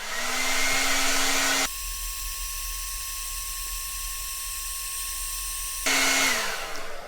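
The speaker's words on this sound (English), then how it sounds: "Let's head to the bathroom next and run a hair dryer" A hair dryer on its hottest, high setting, running off a battery inverter in an RV bathroom, whirs loudly with a steady high-pitched whine, then drops to a lower hum partway through before rising again.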